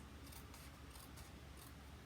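Scissors cut through paper while a handmade Christmas card is assembled, giving a quick run of soft, crisp snips close by in an otherwise quiet room.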